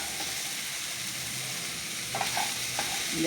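Poha upma of flattened rice being stirred in a hot pan, a steady soft sizzle with a few scraping strokes of the spoon near the end, close and alone without talk.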